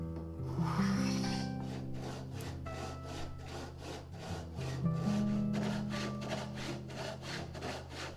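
A homemade Japanese-style kerfing plane saws through wood in steady, rhythmic back-and-forth strokes, close and clear, with no talking.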